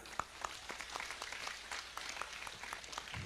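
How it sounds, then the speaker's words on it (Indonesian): An audience at a mosque inauguration event in Ngawi claps in a brief burst of applause for the organizers, with scattered sharp claps standing out over a steady crowd patter. "Tepuk tangan untuk panitia."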